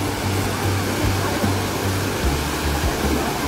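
Steady, heavy roar of Tsuen Wan Falls in Hong Kong crashing nearby, broadband and continuous with a low rumble underneath, filling the whole stretch without pause.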